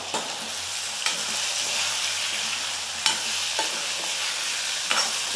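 Eggs and garlic frying in a pan, a constant bright sizzle with a spatula scraping and stirring now and then, close up and loud, no talking.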